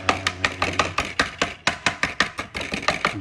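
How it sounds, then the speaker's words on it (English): A knife chops cilantro leaves on a cutting board in a steady series of about sixteen crisp, close, loud strikes with brief pauses, no voices. "chop these leaves of cilantro"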